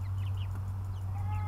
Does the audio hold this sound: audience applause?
no